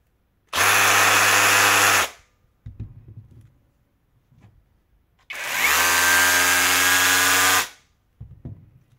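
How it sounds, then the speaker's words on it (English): Two long bursts of loud, harsh hammer drilling from 12V cordless SDS-Plus hammer drills, Parkside Performance and Milwaukee M12, each about two seconds, separated by brief quieter rattles and pauses. "Let's hear their voices in the loudest work mode, hammer drilling."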